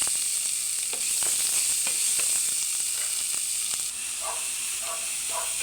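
Onions sizzle in a hot pan with garlic already cooking, a continuous bright hiss with occasional stirring scrapes and small pops, close and steady with no talking.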